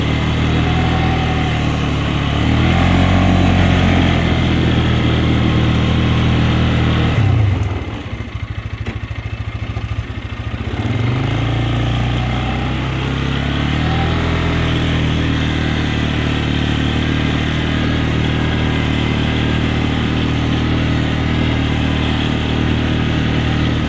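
Polaris Sportsman 400 ATV from 2013 on stock tyres in all-wheel drive, engine idling then revving steadily with a brief dip as the wheels dig into gravel, close and continuous throughout.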